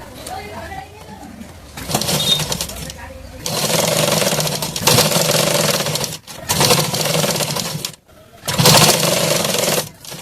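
A sewing machine runs in loud, close bursts of rapid whirring while double-stitching a katori blouse, stopping briefly between runs, with quieter handling noise at the start.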